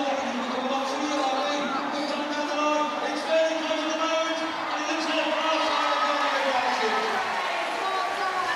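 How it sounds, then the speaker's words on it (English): Steady crowd noise fills a large arena at the Crufts rescue dog agility event, a continuous murmur and babble of many voices with faint thumps and scattered calls, moderately loud and unbroken. "we're getting a bit of noise from the crowd at last"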